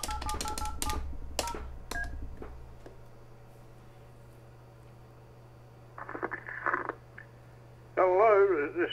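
A FreePBX phone call, with a series of DTMF dialing tones, short distinct beeps near the start, then a quiet stretch, some buzzing clicks, and a louder warbling tone at the end.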